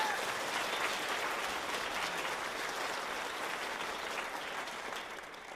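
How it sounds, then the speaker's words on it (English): An audience at a children's chorus concert gives sustained applause for a choir member. The clapping is dense and even, slightly distant, and fades a little at the end. "So please give Caitlin a big round of applause."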